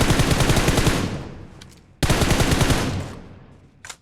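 An M4 rifle in the video game PUBG Mobile fires two long automatic bursts, each a loud rapid stream of shots that trails into echo, with a short click after each burst.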